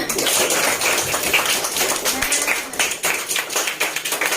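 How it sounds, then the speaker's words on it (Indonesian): Students in a class clap together, a close, brisk stream of hand claps with uneven rhythm that carries on for several seconds and stays fairly loud throughout. "Tepuk tangan untuk kita semua."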